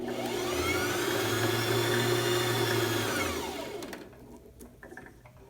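A sewing machine's bobbin winder spins a bobbin with a steady, loud whirring hum for about three seconds, then winds down and stops, followed by faint clicks and handling noises.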